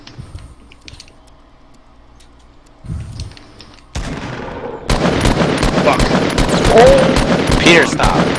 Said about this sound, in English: I just started shooting at Peter.